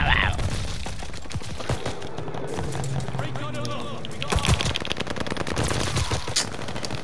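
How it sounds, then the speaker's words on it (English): Heavy gunfire in Call of Duty: Vanguard, with machine-gun bursts and single shots firing through a house, rattling and booming throughout. A player talks over the shooting. "They're shooting right through the house and I'm being hit"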